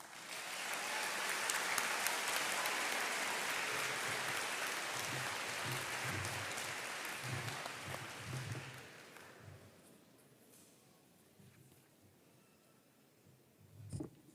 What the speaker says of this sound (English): Let's give our superintendent, Dr. Monica Kelsey Brown, another round of applause.